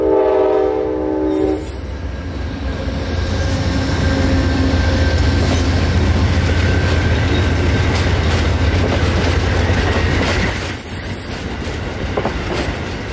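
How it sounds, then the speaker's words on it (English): An Amtrak passenger train passes a freight waiting on a siding, opening with a loud, close horn and followed by sustained rumbling and rolling wheel noise with clicking rail joints as the cars go by. "Amtrak number 91 was coming up on their rear and had to get by first."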